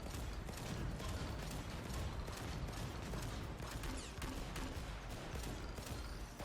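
Rapid gunfire from the video game Risk of Rain 2, a dense, continuous stream of shots with mechanical clatter running steadily throughout at high loudness, no voices.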